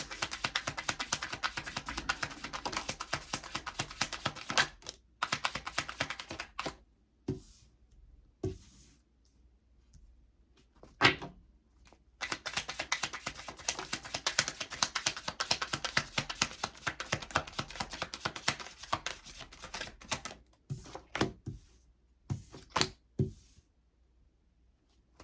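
Tarot cards being shuffled and handled, long bursts of rapid riffling and flicking clatter broken by short silent pauses, close and fairly quiet, with no talk.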